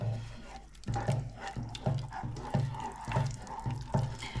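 Liquid added drip by drip into a mac and cheese sauce in a hob-top pan, small wet splashes and trickles repeating in a steady rhythm about every half second, close and fairly quiet.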